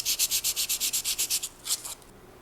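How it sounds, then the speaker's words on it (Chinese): Sandpaper rubbing the rusty motor shaft of an aquarium water pump, a rapid series of about a dozen even, raspy back-and-forth strokes, then a few slower, weaker scrapes before stopping. "拿砂纸来把它搓一下"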